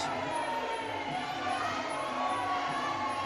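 Spectators at a Muay Thai bout between Turkish and Moroccan fighters at a world championship in Antalya give off a steady roar of shouting, moderately distant and constant throughout.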